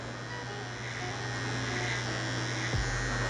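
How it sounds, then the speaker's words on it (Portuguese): An electric finishing trimmer buzzes steadily while cutting dry hair in a fade haircut, a close, continuous motor whine with a brief pitch drop near the end. "Máquina de acabamento, a melhor que você tiver aí, você vai fazer duas linhas diagonais."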